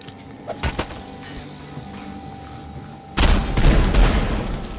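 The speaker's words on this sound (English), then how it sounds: "Grenade." A grenade blast in the stealth game Dishonored: Knife of Dunwall, a sudden loud broadband burst that rings on after quieter ambient game noise and a few faint clicks.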